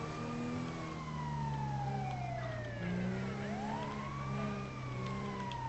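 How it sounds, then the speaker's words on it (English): A police car siren in a video game wails continuously, its pitch sweeping up and down in overlapping tones over a steady engine rumble, fairly loud and close, with no talking. "Why you got your lights and sirens on"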